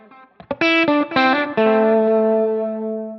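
A distorted electric guitar played through a modeler's delay, with a few short picked notes followed by sustained tones whose quarter-note repeats at 120 bpm blur into a ringing, chorused wash that slowly fades.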